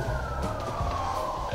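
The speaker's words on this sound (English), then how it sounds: "It feels so urban now with the sirens in the background." Sirens wail steadily in the distance over the low rumble of street traffic in Myeong-dong, Seoul, a sustained tone drifting slightly in pitch.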